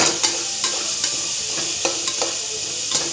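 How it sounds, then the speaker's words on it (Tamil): Peas and carrots sauté in hot oil for coconut milk rice, a constant bright sizzle broken by regular scraping taps of a spoon stirring the pan, close and alone. "பட்டாணியும் கேரட்டும் போட்டு நல்லா வதக்கிடலாம்"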